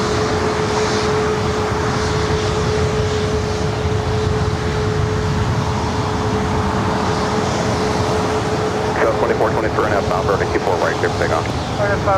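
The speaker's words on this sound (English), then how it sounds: "Southwest Airlines flight 2423 heading to Sacramento." Southwest Airlines airliner departing LAX for Sacramento, a steady loud jet engine roar throughout with a tonal whine and rumbling texture, heard from close by with no talking.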